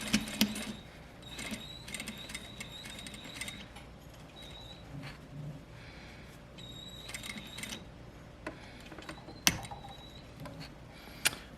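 A sewing machine stitches a second row along a fly front zipper, quiet mechanical whirring with irregular clicks and creaks as the needle runs.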